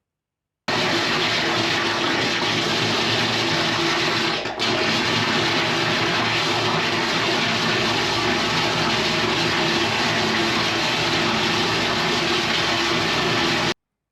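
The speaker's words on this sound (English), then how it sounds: "let's jet downstream and see if we can get it clear" High-pressure drain jetter blasting water down a blocked hospital sewer, a loud steady roaring hiss that starts abruptly and runs continuously with one brief dip.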